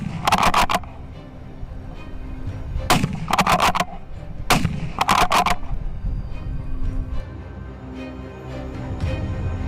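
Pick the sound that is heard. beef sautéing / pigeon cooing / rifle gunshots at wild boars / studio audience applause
rifle gunshots at wild boars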